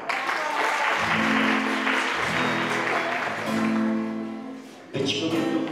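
Audience applause for a performer at a Women's Day event in Bińcz, broad steady clapping mixed with sustained musical tones from accompaniment, continuing throughout with a brief dip and a fresh burst near the end.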